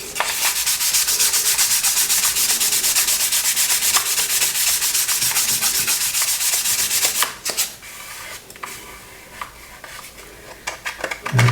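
Continuous, loud scratchy rubbing of sandpaper over a plastic 1/24 scale Airfix aircraft model wing, steady for about seven seconds before easing into quieter, intermittent strokes, with no talking.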